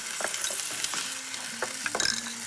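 A spoon stirs flour and mustard into hot fat in a pan, soft scraping strokes over a steady low sizzle, close and alone.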